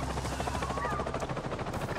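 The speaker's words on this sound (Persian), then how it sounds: "آه هلیکوپتراشون اومد" Helicopters in the video game Avatar: Frontiers of Pandora arrive with a steady, loud rotor thrum and whine that holds throughout, with no speech over it.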